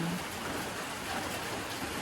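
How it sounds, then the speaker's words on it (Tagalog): Steady early-morning rain falls as a dense, even hiss of drops on surfaces, close and continuous with no voices. "Maura gyapon ang ulan, wala gid siya ni undang."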